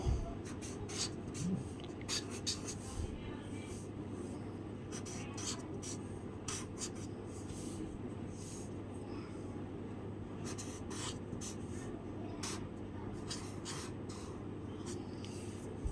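A pen scratches on paper in repeated short strokes and ticks, close but faint, over a steady low background hum with speech-like murmur.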